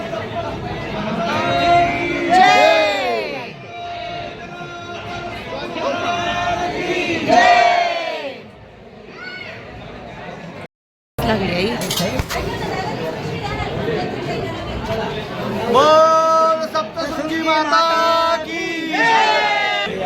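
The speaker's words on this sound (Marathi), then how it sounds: "गर्दी आहे जास्त नाही आहे थोडीफार आहे पण लाईन आहे" Crowd of pilgrims queuing at Saptashrungi temple near Nashik, a dense murmur of many voices with occasional louder calls and chanting, steady throughout apart from one brief dropout midway.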